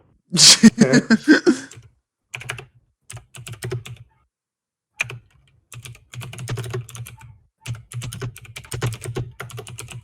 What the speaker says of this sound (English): There's some furious typing.